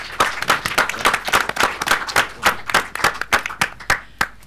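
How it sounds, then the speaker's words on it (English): Audience applause at a film festival session on finding a film crew, with a lively, continuous patter of clapping from a modest crowd, close and fairly loud throughout. "Let's give Carol May Barker a big round of applause, please."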